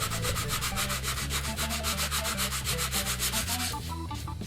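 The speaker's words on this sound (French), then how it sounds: "après, il n'y a plus qu'à le poncer" Sandpaper rubs back and forth over wood to smooth out a dent, a fast, even rasping rhythm of strokes, close and steady throughout.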